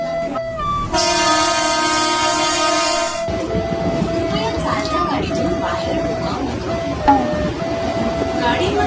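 Mumbai local train moving through Jogeshwari station, a loud sustained horn blast in the first seconds followed by steady rolling rumble and wheel clatter with crowd voices and station noise around it.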